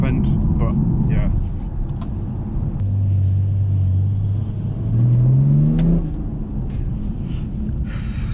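A BMW 430d diesel with a Stage 3 tune and hybrid turbocharger runs from a steady low rumble into a rising rev as it accelerates hard. The engine note sweeps upward, then drops away, with people talking inside the car.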